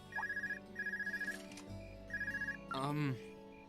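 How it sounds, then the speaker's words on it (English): A telephone rings in the role-playing video game Trails of Cold Steel, giving repeated bursts of bright electronic trilling in short pulses. A brief voice-like sound follows near the end. "That's one hell of a fucking phone."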